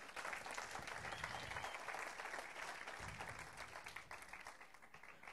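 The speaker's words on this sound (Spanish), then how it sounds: "El que lo reciba, que aplauda al Señor." A church congregation applauds together in a sustained, dense burst of clapping that stays full and even for several seconds, heard at a moderate distance in a large room.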